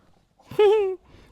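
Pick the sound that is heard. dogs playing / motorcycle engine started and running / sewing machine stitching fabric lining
dogs playing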